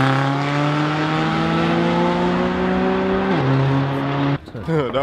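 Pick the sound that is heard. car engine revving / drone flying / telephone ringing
car engine revving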